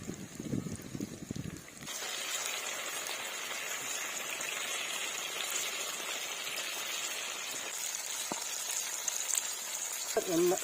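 Marinated Kerala-style broasted chicken frying in hot sunflower oil, a steady broad sizzle that starts about two seconds in after a brief muffled opening and holds evenly to the end.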